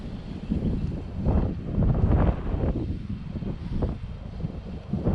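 Gusty wind sweeps across a springtime pond, buffeting the microphone in uneven low rumbling surges that rise and fall over a few seconds, with no talking.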